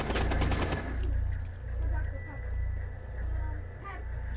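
Gunfire in the video game Rainbow Six Siege crackles in a rapid burst at the start, then fades into a low rumbling game soundscape with scattered pops, while a player talks over it.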